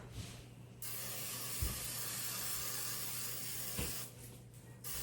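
A steady close hiss of vegetable oil spray coating baking pans, running for several seconds with a soft thump near the start and another near the end.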